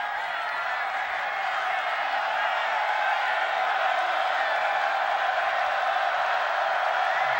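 Steady, dense roar of a football stadium crowd at a UConn at West Virginia college game, a continuous wash of cheering that holds at an even level throughout without breaks.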